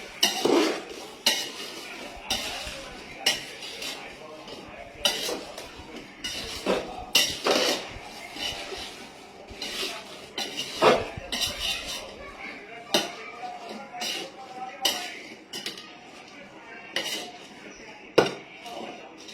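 Raw mango pieces are tossed with turmeric and salt in a metal bowl, giving a long run of irregular clinks, knocks and rattles, fairly close and moderately loud.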